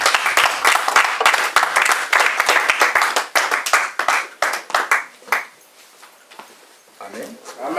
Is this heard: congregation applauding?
yes